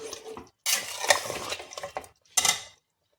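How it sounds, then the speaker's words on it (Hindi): Mutton is stirred and sautéed in a pot on high heat for a stew, giving bursts of scraping, clattering spoon-on-metal and frying sizzle separated by short silent gaps, close and with no talk. "इसको कम से कम 15-20 मिनट तक भूनना पड़ेगा।"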